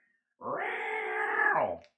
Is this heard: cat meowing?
yes